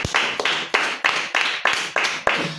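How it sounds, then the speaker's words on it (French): Children clap in unison at a Sunday church service for kids, sharp bursts of hand claps repeating in a steady rhythm, loud and close, with no talking. "Applaudissez pour lui."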